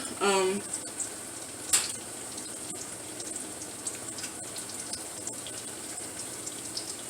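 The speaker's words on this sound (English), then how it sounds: "I'm going to let it simmer here a little bit to thicken up some more" Mac and cheese sauce simmers on the stove with a soft, continuous bubbling hiss. A short clatter comes near the start and a faint tap follows, with no talk over it.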